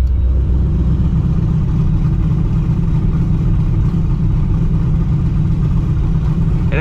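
Loud, deep exhaust rumble from an idling supercharged Pontiac GTO with a MagnaFlow muffler open, steady and throbbing throughout, with no one talking.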